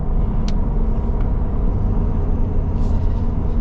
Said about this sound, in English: You do hear some noise from those tires